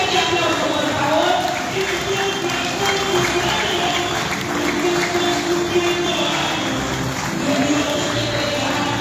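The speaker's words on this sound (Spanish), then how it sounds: "Recibámosla con un fuerte aplauso, por favor." Guests at a 65th birthday celebration give a sustained round of applause, a dense continuous clatter of clapping mixed with crowd noise and background music in a lively hall.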